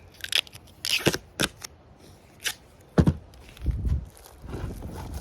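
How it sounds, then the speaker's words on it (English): Tape is pulled and wrapped around a flexible duct fitted onto a floor boot, giving sharp tearing rips and crinkly rustles in short bursts, close and fairly loud, with no talking. "After that, I take some tape, wrap it around."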